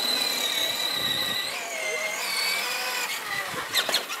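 An 18-volt Turbo 3E Mini RC drift car whines as its small electric motor drives, pitch rising and falling as it turns, with faint tire scuffs and a quiet voice in the background.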